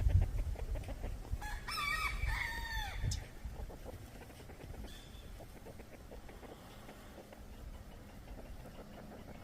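Young wild turkeys (jakes) at a farm: one loud, rattling call rings out early, then leaves quieter outdoor rustling and faint calls.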